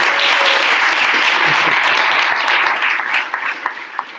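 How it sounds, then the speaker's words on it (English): Loud, close audience applause fills the room in a dense continuous roar of clapping, then thins out into a few scattered final claps near the end. "Huge round of applause."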